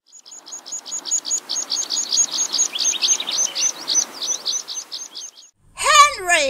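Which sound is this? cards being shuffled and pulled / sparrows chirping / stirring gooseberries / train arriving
sparrows chirping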